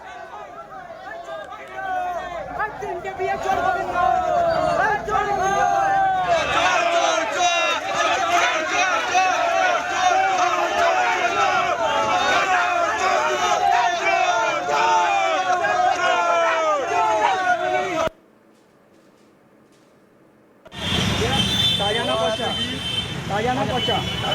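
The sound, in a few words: crowd chanting 'chor chor' (thief) slogans at arrested councillor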